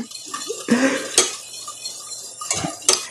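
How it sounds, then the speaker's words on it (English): Coconut cream whisked in a pot, with scraping, swishing strokes and several sharp metallic clinks of the whisk against the pot at close range. "I'm whisking because I don't want it to separate."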